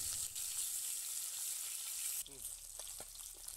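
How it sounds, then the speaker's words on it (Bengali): Aar fish pieces frying in mustard oil, a steady bright sizzle heard close up. It dips and thins partway through as the fish is turned, with faint clinks. "মাছটাকে সবগুলো মাছ ছেড়ে আমি উল্টে পাল্টে ভেজে নিচ্ছি।"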